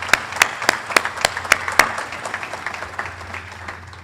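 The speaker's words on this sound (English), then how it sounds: "Let's give all of our mothers a big round of applause." An audience at a law enforcement awards ceremony applauds the mothers; a few sharp, evenly spaced claps stand out over a thinner crowd clapping that gradually fades.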